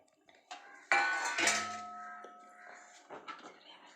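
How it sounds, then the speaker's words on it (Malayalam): Chopped raw mango pieces drop into a jar while making juice, giving a few sharp clinks and clatters of glass with a ringing tone, close and fairly quiet. "നമ്മൾ അരിഞ്ഞു വെച്ചേക്കണ പച്ചമാങ്ങ ഇടുകയാണ്."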